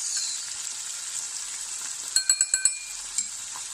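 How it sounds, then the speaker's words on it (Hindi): Potatoes sautéing in a pan with soy sauce give a steady, bright sizzle. Midway, a quick run of four or five sharp spoon clicks against the pan breaks in, followed by one more tap. "जब तक ये सौते हो रहा है"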